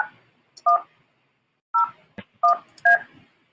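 Telephone keypad tones sound as a voicemail number is dialed: five short, loud dual-pitch beeps spaced irregularly, with a soft click between them and no talking.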